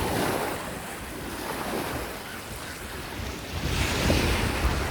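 Waves washing up onto a seaweed-strewn beach at Seahurst Park in Burien, Washington, make a steady rushing surf wash with wind noise on the microphone, swelling louder near the end, with no talk.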